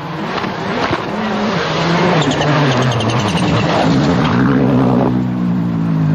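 A Mitsubishi Lancer Evo 8 rally car drives over rough, broken terrain at the 2004 Cyprus Rally, its engine loud and close, revving and rising in pitch with gear changes over a constant gravelly roar.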